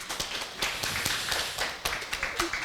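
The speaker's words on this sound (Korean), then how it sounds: "박수 한번 쳐주십시오." A small audience at a lecture claps in brief, uneven bursts, close and fairly quiet, with a faint voice nearby.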